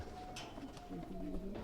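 Soft cooing from Punjabi pigeons, low and murmuring, repeats faintly in the background of a quiet outdoor setting.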